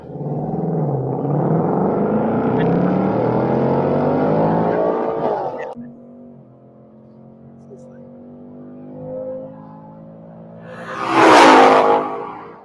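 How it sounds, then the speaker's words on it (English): A Ford drag car engine starts and roars loudly, revving for several seconds, then cuts to a lower idle before a sharp whooshing burst near the end. "it's loud when you start it up"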